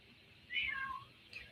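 A cat gives a single clear meow at close range, then a fainter short chirp follows in a quiet room.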